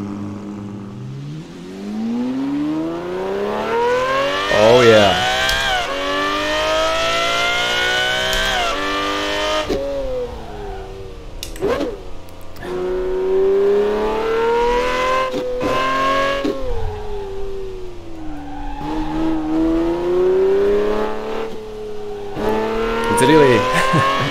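A Lamborghini Murciélago 6.5L V12 in Assetto Corsa fires up and revs repeatedly, its loud engine note sweeping up and down in long climbs with sharp blips between. Someone speaks briefly over it.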